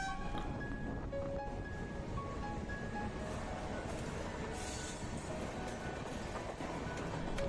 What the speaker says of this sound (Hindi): यहाँ पे हमारी ट्रेन किसी दूसरी ट्रेन के साथ पैरेलल रन कर रही थी।